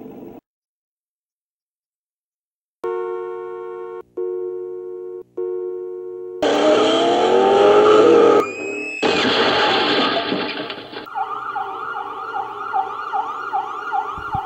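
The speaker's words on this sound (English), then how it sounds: "I can hear the police coming." A police siren approaches in a movie scene, preceded by a few steady electronic beeps, then loud wailing sweeps rise and fall with traffic rumble underneath.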